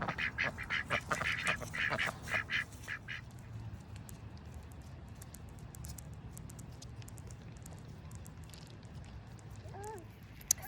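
Ducks quack in a rapid, loud cluster while being fed, then the calls thin out over a quiet outdoor background, with a few faint honks near the end.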